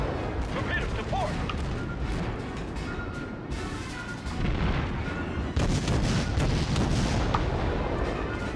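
Naval artillery booms in the World of Warships video game, rumbling shots and distant impacts rolling under continuous battle noise, with a voice talking over it.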